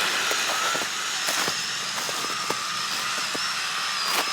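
An ARRMA Big Rock 3S RC truck's electric motor whines steadily in snow at three-quarter throttle, with a high, even hum and brief scrapes and clicks from the wheels, sounding close and continuous.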